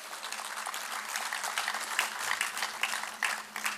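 An audience at a poetry mushaira claps steadily in a dense, continuous patter of many hands that holds throughout and swells slightly near the end.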